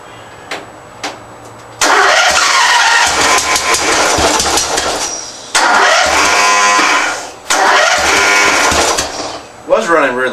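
A re-powered Craftsman II riding mower engine that has been flooded cranks and catches several times. It roars loud and close in bursts, with short pauses between attempts, and someone speaks briefly.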